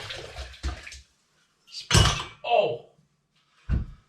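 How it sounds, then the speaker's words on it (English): An alcometer dropped and breaking while making home spirits with an Air Still Pro, heard as a sharp crash near the middle among short bursts of clatter and handling noise, with a brief voice exclamation. "And that's how you break an alcometer."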